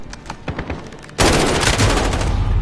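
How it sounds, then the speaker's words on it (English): Sentry gun in Modern Warfare opening up with a sudden, loud, continuous burst of automatic fire that fills the second half, after a stretch of quieter scattered gunfire. "Got the sentry gun on station."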